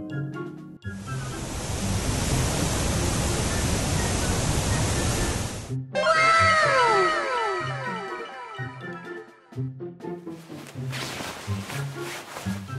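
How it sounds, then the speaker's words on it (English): Fast-flowing waterfall in a cartoon scene, a loud, steady rush of water that suddenly gives way to a busy musical passage, then choppier sounds near the end. "It feels like the water is flowing very fast."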